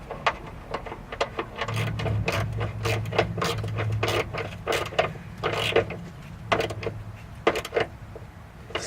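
A 10mm bolt is tightened on the fuel filter of a Chevy Cobalt, with quick clicking ratchet strokes in steady bursts close by. A low mechanical hum runs underneath in places.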